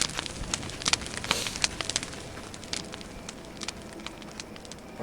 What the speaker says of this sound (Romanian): Aici este foc acolo.